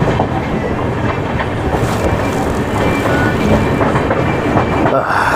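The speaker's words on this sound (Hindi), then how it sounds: "तो दोस्तों कोई ट्रेन आ रही है, देखते हैं कौन सी ट्रेन है ये।" The Patalkot Express passes near Jind junction in Haryana, a loud, close rumble of rolling wagons with rhythmic clickety-clack from the wheels throughout.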